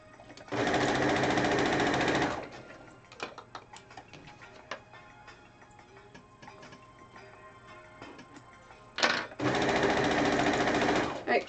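A sewing machine stitches one side of a fabric piece in a steady, loud whirring run, pauses through a quieter stretch of small clicks, then starts again for another burst near the end.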